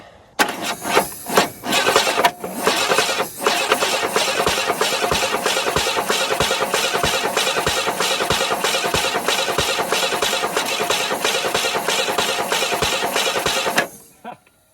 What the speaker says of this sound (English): I'm trying to roll it over. It's not going to start, but for giggles.